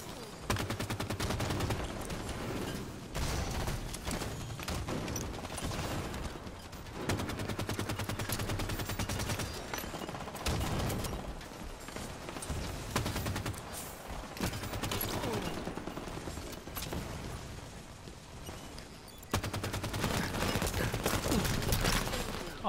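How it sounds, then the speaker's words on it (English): SMG fire from Halo 5 Warzone, sustained rattling bursts of automatic gunfire that run nearly the whole time, loud and dense, with brief lulls between volleys. "he was shooting with an SMG"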